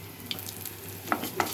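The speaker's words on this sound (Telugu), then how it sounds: "ముందుగా కడాయి పెట్టుకొని తాలింపు గింజలు, ఎండుమిర్చి, ఒక 2 ఎల్లుల్లిపాయ రెబ్బలు వేసాను ఫ్రెండ్స్" Mustard seeds, dried red chillies and a couple of garlic cloves sizzle in hot oil in a kadai, a steady low frying hiss broken by a few sharp crackles and pops.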